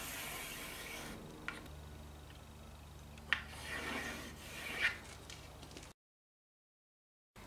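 A pencil drawing a line across a wooden board, heard as a soft, steady rasping scrape up close with a few brief clicks, running for several seconds before stopping.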